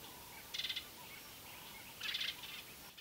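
A go-away bird calls twice on safari in Zambia, two short, harsh bursts separated by a pause and heard at a moderate distance over a steady hiss of outdoor background noise.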